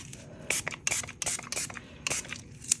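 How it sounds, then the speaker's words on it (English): Several short, sharp spritzes of alcohol from a spray bottle onto a resin tray come in quick, irregular bursts close by, with faint handling noise between them. "Let me just grab my alcohol so I can spray the back."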